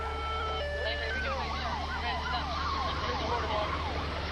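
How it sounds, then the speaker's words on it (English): A police siren wails up and down over steady road rumble, moderately distant and continuous throughout. "We turned on red lights and sirens in an attempt to stop him."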